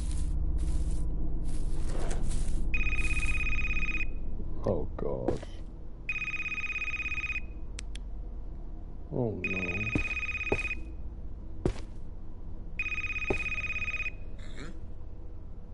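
Telephone ringing in the horror video game Devil Inside Us: Roots of Evil, four repeated bursts of electronic ringing with gaps between, under a man's reactions and in-game noises.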